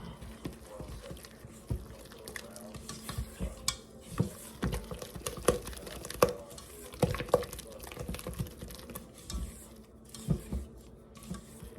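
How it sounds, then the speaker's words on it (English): A spoon stirs batter for bread rolls in a bowl, giving a steady run of soft wet scraping and sloshing strokes, moderately close, with a faint low hum beneath. "we're going to stir this until a thick batter forms"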